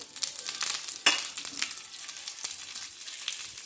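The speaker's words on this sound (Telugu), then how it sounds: "ఒక ఎండుమిరపకాయ వేసి కొంచెం తిరగమాత వేసుకున్నాం" Mustard seeds, cumin, dal, curry leaves and a dry red chilli crackle and sizzle in hot oil for tempering, a brief close burst of spitting and popping with stirring scrapes, fading as it settles.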